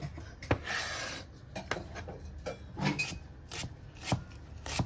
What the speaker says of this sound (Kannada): ಈರುಳ್ಳಿ ಕಟ್ ಮಾಡ್ಕೊಳ್ತಾ ಇದ್ದೀನಿ